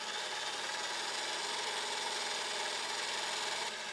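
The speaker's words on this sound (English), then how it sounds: "You may like to use an electric whisk if you have one." Electric whisk beating egg whites in a mixing bowl, a steady continuous high whirring and rubbing that runs unbroken from start to finish with no talk.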